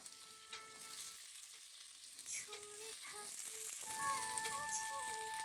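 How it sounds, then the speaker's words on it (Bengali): Kohlrabi and potato pieces fry in hot oil in a pan, giving a soft, steady sizzle with light stirring rattles, while quiet background voices and a faint tonal sound from a nearby television or radio play underneath. "ওলকপি আর আলুকে ভালো করে তেলের মধ্যে ভেজে নিচ্ছি।"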